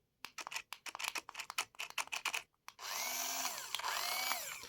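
A toy remote-control race car from a Şok market gives a quick run of rapid clicks and ticks. Its small motor then whines steadily, with the pitch rising and falling, close by and alone.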